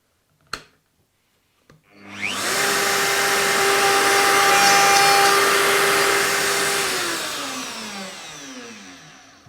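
A Bosch power drill bores a shelf-adjusting hole into a bathroom tallboy panel, with a couple of sharp clicks first, then a loud, steady whirring drone that holds for several seconds and winds down at the end. No voices.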